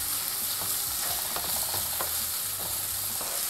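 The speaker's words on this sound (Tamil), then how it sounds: "இப்போ தக்காளியை நல்லா வதக்கிக்கலாம்." Chopped tomatoes sauté in a hot pan for a Guntur-style chicken dish, with a steady sizzle and repeated scraping strokes of a spoon stirring close by, no voices.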